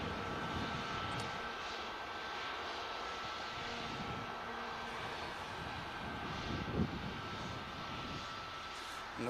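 A Jet2 Boeing 737 taxis out at Manchester Airport, its engines a steady, moderately distant whine and roar that holds throughout with only slight swells and no talking.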